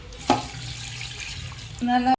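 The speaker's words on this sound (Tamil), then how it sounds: "தேவையான அளவு 2 லிட்டர் தண்ணி ஊற்றி" About two liters of water runs and splashes steadily into a cooking pot, with a couple of metallic clinks, close by.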